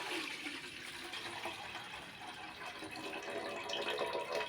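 Water draining off washed green gram in a home kitchen, a soft, continuous trickle and pour with slight splashing that swells a little toward the end.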